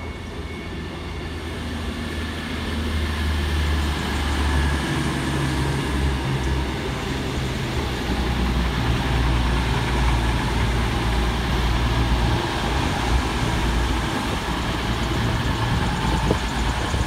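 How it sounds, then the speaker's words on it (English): A West Midlands Railway class 196 diesel unit departs a station at Leamington Spa on the far side, a steady loud engine drone and rumble that holds throughout without talk. "Departing over on the far side is 196009, working 1240 West Midlands Railway service through to Nuneaton."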